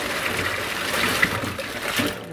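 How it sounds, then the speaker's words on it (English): Cold water runs into a clean kitchen sink, a steady hiss and splash of the tap filling the basin, close and continuous for a couple of seconds before tapering slightly. "Clean sink full of cold water."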